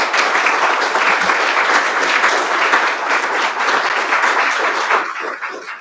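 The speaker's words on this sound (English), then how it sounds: "Please give them a round of applause for that work." A press conference crowd in Anchorage, gathered for an affordable housing and land trust announcement, gives a sustained round of applause, many hands clapping together before it thins and fades at the end.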